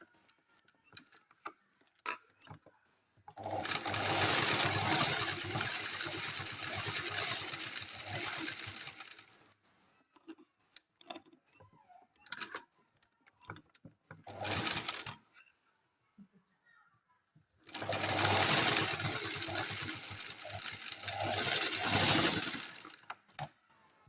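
A sewing machine stitches a zip onto fabric in two long bursts of fast, dense needle clatter, separated by a quieter stretch of handling clicks and rustles at close range.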